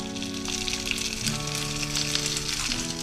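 An egg fries on rice paper for a Vietnamese pizza snack, giving a steady close crackling sizzle with faint background tones and no speech.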